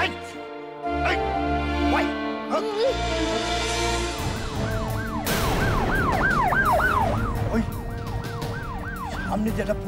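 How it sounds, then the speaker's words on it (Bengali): A police car siren approaches, its rising and falling wail starting about halfway in and growing loud and clear. Before it come engine rumble and other background sounds, and voices talk under the siren. "পুলিশের গাড়ি আইতেছে"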